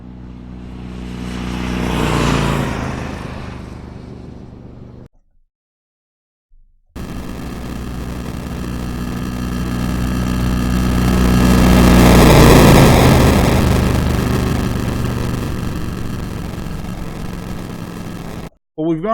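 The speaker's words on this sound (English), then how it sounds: "Here we've got a motorcycle driving by." A motorcycle rolls past in two passes: a short engine swell that fades out, a pause, then a longer, gritty, bitcrushed 8-bit version that rises to a loud peak mid-pass and falls away before cutting off abruptly.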